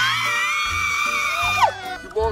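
On a film set, a woman screams while being carried and thrown into water. Her loud, sustained, high-pitched shriek falls in pitch near the end, with other voices underneath.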